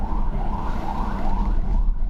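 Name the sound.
ambulance siren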